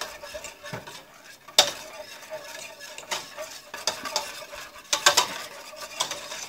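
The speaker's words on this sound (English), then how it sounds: "all we're going to do is whisk it all together" Whisk stirring milk with dried milk powder in a pot or bowl for homemade yoghurt, with scraping and clinking against the sides at an irregular rhythm and a few sharper knocks, close and without talk.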